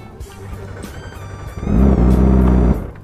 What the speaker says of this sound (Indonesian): Coba nih hidup ke motor gua ini